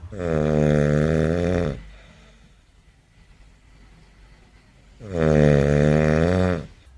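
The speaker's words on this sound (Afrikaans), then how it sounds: "het jy al gehoor hoe Afrikaans sprekende mense kan snork?" Loud, close snoring from a person: two long, harmonic, droning inhalation snores separated by several seconds of quiet breathing, with no talk.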